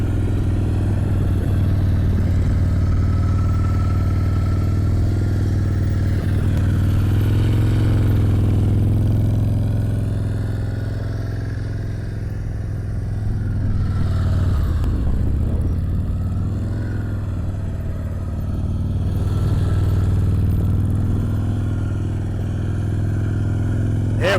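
A motorcycle creeps through an advanced slow-speed riding practice course in Ohio, its engine holding a steady, low, close rumble that swells and eases slightly as the rider works the turns.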